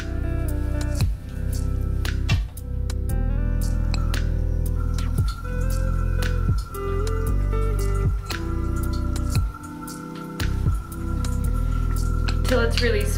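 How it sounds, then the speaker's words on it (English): Wet squishing and dripping as water is stirred into a cream-and-clay volumizing hair mask, close and soft, with a steady music bed running underneath throughout. "And I'm gonna add a little bit of water."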